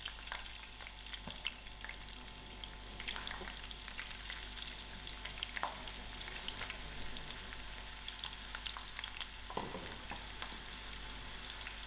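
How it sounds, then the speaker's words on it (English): Onions frying in a cup of heated oil for broad bean chutney give off a steady, faint, crackly sizzle throughout, with scattered small pops and a brief scrape near the end, and no one speaks. "I'll allow these onions to fry"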